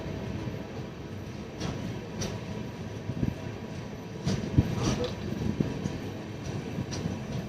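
Kirandul Express 18551 with LHB coaches running, heard from inside as a steady low rumble of wheels with scattered clicks and knocks over the track.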